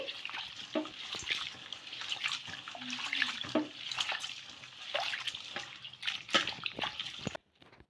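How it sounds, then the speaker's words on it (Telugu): Soaked peanuts and grains washed in water in a kitchen for making peanut dosa, soft splashing, swishing and dripping continuing at moderate, close volume, ending abruptly. "ఒకసారి నీళ్ళు అయితే వేసేసుకొని ఇవన్నీ కూడా కడిగేసుకోవాలి"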